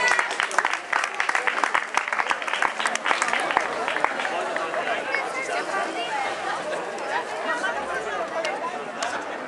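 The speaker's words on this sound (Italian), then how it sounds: "ma l'applauso gli piace anche loro" Crowd applause at a local Migliarino event, dense clapping loudest at the start and thinning out, mixed with lively chatter and children's voices throughout.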